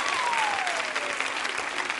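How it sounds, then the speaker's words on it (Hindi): Loud, dense clapping from a women's audience at a quiz show, many hands beating in a continuous rush that holds steady for two seconds with no voices on top. "जोरदार तालियां बजाइए, जोरदार तालियां"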